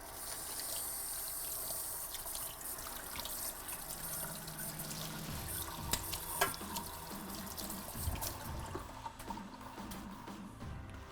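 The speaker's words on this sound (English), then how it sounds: "And I'll wash this real quick." Tap water runs steadily into a sink while dove breasts are rinsed under it, a continuous splashing gush with small shifts and clinks as the meat is moved, close and without speech.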